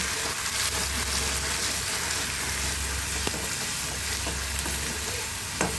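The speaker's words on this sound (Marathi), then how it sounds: "आता हे वाटण आपल्याला गोल्डन ब्राऊन होईपर्यंत छान खमंग भाजून घ्यायचं" Spice paste roasting in hot oil until golden brown for ragda samosa chaat, a dense continuous sizzle with occasional sharp spatula taps and scrapes, close and steady, no speech.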